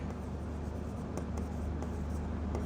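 Pen writing out a squaring step in a maths proof, a steady continuous scratching on paper with small tapping strokes, close and fairly quiet, with a low hum underneath.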